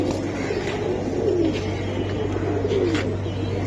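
Pigeons at a pigeon market, giving two soft, low coos about a second apart over a steady background hum, close and clear with no talk.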